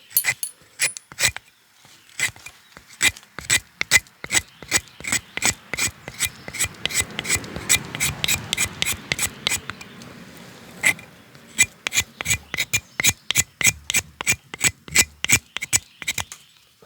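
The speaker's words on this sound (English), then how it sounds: "so I scrape, and when I get to a spot where I got like a little lump on it where I don't want to scrape anymore, I just kind of peel that off" A knife spine scrapes wet fatwood in rapid rasping strokes, loud and close, coming in quick rhythmic bursts with a short pause midway and no talking.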